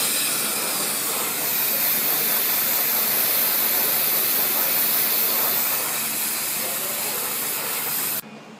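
Brake cleaner sprays onto the axle tube of a Ford rear axle during a seal leak repair, a loud, continuous close-up hiss lasting about eight seconds before it stops.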